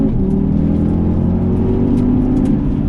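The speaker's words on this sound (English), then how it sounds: "let's go for a hard blast in the Audi" An Audi TT RS Roadster accelerates hard on a rocky road, its engine note loud and close as it climbs steadily in pitch and stays strong throughout, with no talking.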